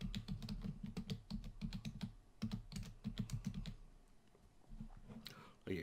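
Fast bursts of computer keyboard typing during a server configuration on a virtual machine, close and crisp with short pauses between runs, then a quieter stretch with soft clicks.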